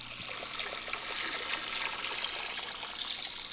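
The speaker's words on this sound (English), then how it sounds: "right now we're filling this big bucket with RO water" RO water pours into a big bucket with a continuous splashing, trickling rush at a close, steady level, with no voices heard.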